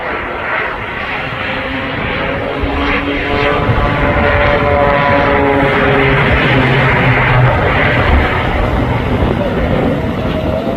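A jet-powered biplane flies aerobatics at the Blackpool Airshow, its loud engine roar continuous and steady throughout with a slowly shifting pitch, as if passing close overhead.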